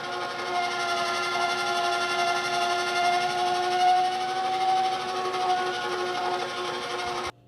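A pasta machine on a low setting runs a sheet of floured homemade pasta dough through its rollers, giving a steady, even mechanical whir that holds for about seven seconds and then cuts off abruptly.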